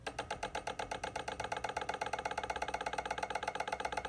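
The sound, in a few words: EVAP purge valve control operating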